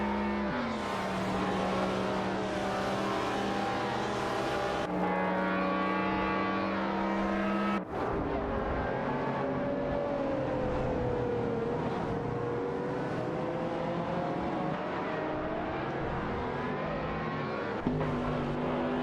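McLaren F1 GT race cars in the Live for Speed racing game, a loud sustained engine roar rising in pitch through the gears, with abrupt drops at shifts and a second car's engine layered in.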